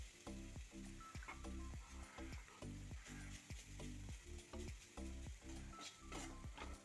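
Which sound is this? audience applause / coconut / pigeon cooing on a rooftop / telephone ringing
coconut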